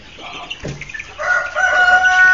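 Chickens in a caged Goliath chicken farm in Africa call and cluck, with a brief low squawk early on and then a busier run of overlapping bird calls filling the last second, close by.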